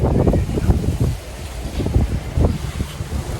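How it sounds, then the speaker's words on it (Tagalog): Gusty wind on the second floor of a house in Taytay, Occidental Mindoro, Philippines, buffets the microphone in low, uneven rumbles over a few seconds, with no voices. "Oh, mahangin. Sarap ng hangin."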